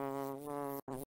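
A bee buzzing in flight, a close, steady droning hum with a slightly wavering pitch that cuts out twice in quick succession at the end.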